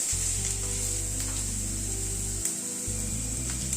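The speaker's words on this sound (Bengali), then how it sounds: "সবজিগুলোকে মিনিট খানেক একটুখানি সতে করে নিলাম, খুব বেশি কিন্তু ভাজবো না।" Vegetables and onion for sago upma sauté in a pan with a bright, steady sizzle. A deep electrical hum runs underneath and breaks off briefly near the end.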